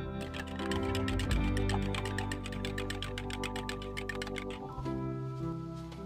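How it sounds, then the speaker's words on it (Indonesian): Eggs beaten in a bowl give a fast, rhythmic run of light tapping strokes over a humming background, close by and with no talking. "Kemudian telurnya kita kocok lepas."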